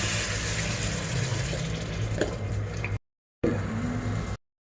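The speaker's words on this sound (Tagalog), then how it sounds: "Kalating cup na tubig at pakuluan ng 5 minutes." Water streams steadily into a pot of pork tongue adobo with vinegar and soy sauce, a close hissing gush that stops briefly, resumes for about a second, then cuts off.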